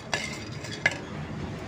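Sunflower and melon seeds roast in a pan under a faint dry sizzle, with two quick metallic scrapes of a spoon stirring them, the second slightly sharper; no voices.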